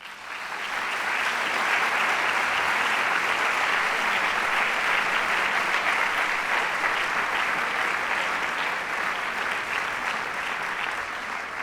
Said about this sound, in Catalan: per a tots ells un fort aplaudiment